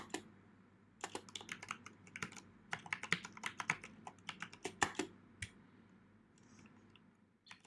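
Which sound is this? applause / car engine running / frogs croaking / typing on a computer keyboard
typing on a computer keyboard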